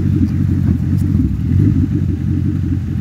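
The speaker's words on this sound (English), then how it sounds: "She runs a minute even with the gas turned off." A Ford P71 Crown Victoria engine keeps running on after its fuel is shut off, a steady loud low rumble with a faint irregular clatter, heard close and without talk.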